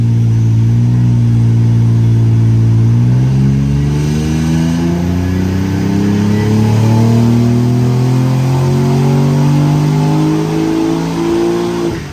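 A Nissan 300ZX twin-turbo engine pulls hard on a dyno, its note climbing steadily from a low drone to a high, loud rev over about twelve seconds, with no pause.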